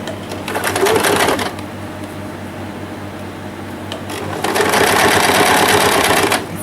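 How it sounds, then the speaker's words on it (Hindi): Sewing machine stitching a summer dress (poshak) for a Laddoo Gopal idol, running in two steady mechanical bursts with a softer hum between, loud and close, with no talk over it. "अब यहाँ पे इसको रख के धीरे धीरे करके हम सिलाई लगा देंगे"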